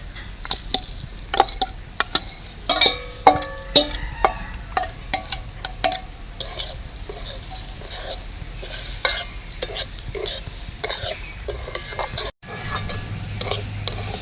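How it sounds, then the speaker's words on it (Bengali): A spoon scrapes and clinks in a pan as roasted semolina is stirred together with fried vegetables for upma, in irregular close taps and scrapes over a soft background. "এবার ভেজে রাখা সবজি দিয়ে ভালো করে মিশিয়ে নেব।"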